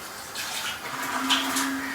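Water poured into a cooking pot coated with leftover masala while making achaar gosht, a soft, faint splashing trickle that rises slightly and runs on continuously.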